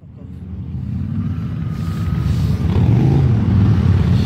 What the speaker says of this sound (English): You can hear a bit of motorbike action.